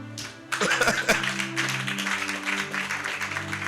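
A church congregation breaks into applause and clapping, loud and dense for a few seconds, with sustained organ or keyboard tones underneath.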